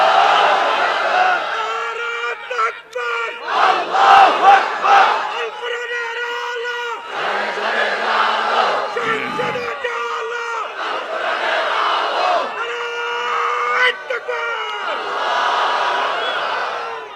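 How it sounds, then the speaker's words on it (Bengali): A large crowd of young men chants the takbir in repeated loud, roaring bursts, each surge rising and falling in rhythm, with a lone voice leading between the shouts at a religious gathering. "দাও না তাকবীর যুবকরা"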